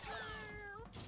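A cartoonish cat meows once in the Katamari Damacy Reroll video game, a clear rising-then-falling tonal cry ending with a soft knock, close and fairly quiet, no speech.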